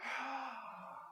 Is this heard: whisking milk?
no